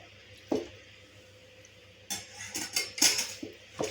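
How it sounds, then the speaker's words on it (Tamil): Chicken is tossed into masala in a pan, giving scattered metallic clinks and wet scraping strokes, sparse at first and then a busier cluster of stirring sounds, fairly close. "இப்போ நம்ம சிக்கனை இதில் சேர்த்துடலாம்"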